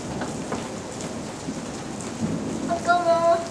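Steady rain storm, a constant hiss of rainfall on surfaces throughout, with a brief tonal whistle-like sound near the end.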